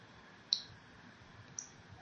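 Two faint, sharp mouse clicks about a second apart, pressing on-screen Run and Yes buttons on a computer in a quiet room.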